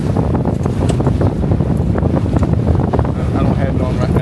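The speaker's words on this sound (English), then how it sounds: "the wind's blowing probably 10 to 12 knots right now" Strong, steady wind buffets a Catalina 22 sailboat with a reefed main in gusty 10 to 12 knot conditions, roaring continuously and close against the microphone with wave wash underneath.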